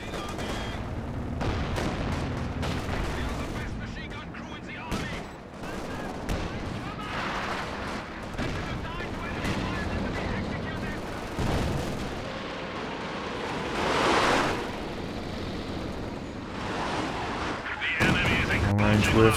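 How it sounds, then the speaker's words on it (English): A long-range Werfer rocket artillery barrage in Company of Heroes 2 rains down as a dense run of booming impacts and crackling blasts, mixed with other battle noise and intermittent voices. "Long range Werfer barrage."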